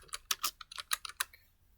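Typing on a computer keyboard while entering a search keyword, about a dozen quick, light key clicks in an uneven run, close and quiet, with no talking.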